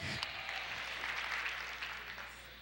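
A church congregation applauds in steady, dense clapping that holds at an even level throughout, with no voices standing out.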